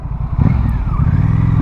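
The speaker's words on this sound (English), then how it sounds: "And the sound of this exhaust, like, my goodness." Exhaust of a Honda Rebel 1100T motorcycle, a loud close deep rumbling idle with a throaty pulse that swells briefly as the engine is blipped, no talking.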